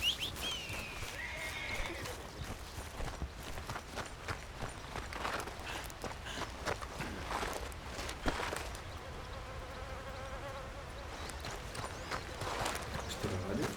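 A horse in Red Dead Redemption 2 walking with soft, uneven hoof clops, snorting and whinnying nearby, set against buzzing insect ambience and someone speaking Spanish over it.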